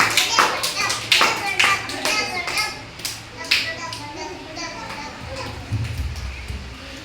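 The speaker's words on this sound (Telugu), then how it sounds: "క్లాప్స్ కొట్టండి. కరెక్ట్ కదా?" A group of anganwadi children clap together in a classroom, several loud bursts of rapid uneven claps close by, with children's voices chattering in between.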